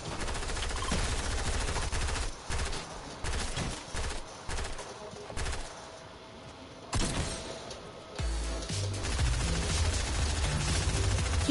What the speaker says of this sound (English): I'm gonna practice my shotgun shots